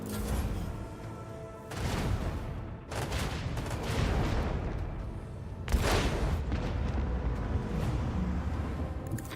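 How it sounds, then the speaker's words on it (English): Macro cannons fire in the Rogue Trader video game, a run of heavy booming blasts in quick succession, loud and close, with rumbling echoes between the shots. "Show them the fury of our macro cannons."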